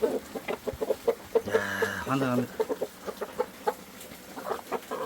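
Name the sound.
chickens clucking while being fed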